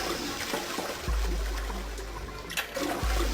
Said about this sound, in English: This is the sixth consecutive time I am flushing this toilet.